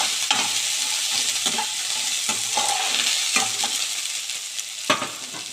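Spices sizzle in hot oil in a pan for chitranna, with a steady frying hiss broken by repeated scraping strokes of a stirring spoon, close and clear, with no talk.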